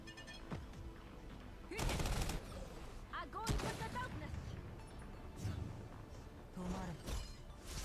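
Gunfire from the mobile shooter game Nikke, crackling bursts of rapid shots that come in clusters between quieter stretches, with a voice talking over the action.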